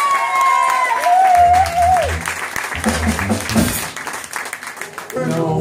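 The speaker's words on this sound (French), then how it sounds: "Je vous demande d'applaudir" A concert audience at a small music venue applauds a guitarist singer, steady clapping with some cheers, while a guitar plays slides and notes over the top and the crowd noise continues throughout.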